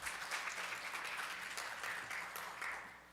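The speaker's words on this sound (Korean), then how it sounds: "다시 한번 큰 박수 한번 부탁드리겠습니다" Dense applause fills the room from a forum audience after a talk on digital platform business, continuous and fairly even before tapering slightly at the end.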